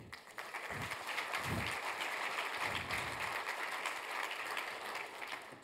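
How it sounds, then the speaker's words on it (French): An audience at a French digital transformation awards ceremony applauds continuously, a fairly soft, steady wash of clapping with a few low thumps early on. "Vous pouvez les applaudir."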